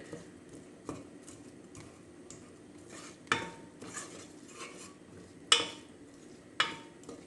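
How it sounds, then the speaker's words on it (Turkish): Onions sautéing in a pot while being stirred with a utensil for a spicy bulgur soup, a soft steady sizzle broken by occasional sharp clinks and scrapes against the pot, close up with no talking. "Soğan biraz pembeleşene kadar çok pembeleşmeyecek şekilde normal birazcık pişene kadar karıştırarak pişirelim."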